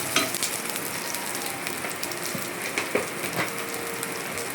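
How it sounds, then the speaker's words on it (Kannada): Onion and garlic fry in a pan with a steady, close sizzle, broken by occasional clicks and scrapes of stirring. "ಇದನ್ನು ಈ ರೀತಿಯಾಗಿ ಫ್ರೈ ಮಾಡಿಕೊಳ್ಳಿ."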